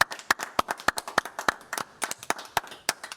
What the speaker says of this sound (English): we'll show our appreciation with a round of applause